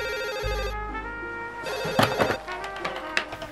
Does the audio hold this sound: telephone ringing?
yes